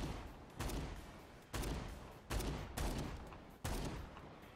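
Revolver shots in Dead Rising 4, five loud booming reports spaced roughly a second apart, each with a decaying tail, alone without talk.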